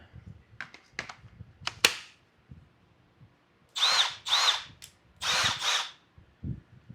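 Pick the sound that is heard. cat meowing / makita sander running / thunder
makita sander running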